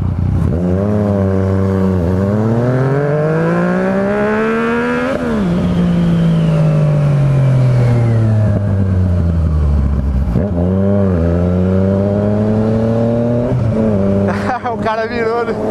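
A modified Ford Ka in a street race revs hard again and again, its engine note climbing and dropping in loud, close sweeps, then fading as another car passes at the end.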